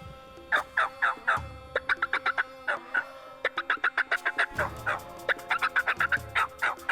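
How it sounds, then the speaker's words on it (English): Rio Grande wild turkeys gobbling outdoors. Burst after burst of rapid, warbling gobbles repeats in quick succession, loud and close, with several birds overlapping. "They're still gobbling right there."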